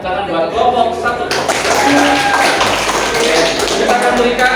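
Classroom applause for a student group during an academic supervision session, a dense run of hand claps from a small crowd that fills the whole stretch, with voices mixed in underneath.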